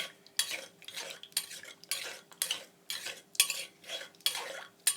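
A spoon or pestle stirs and scrapes through spicy Thai corn salad, tam khao phot, in a bowl, a steady rhythm of wet clattering strokes about twice per second, close and continuous.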